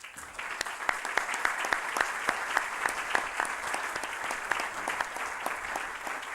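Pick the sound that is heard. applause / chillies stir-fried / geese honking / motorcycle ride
applause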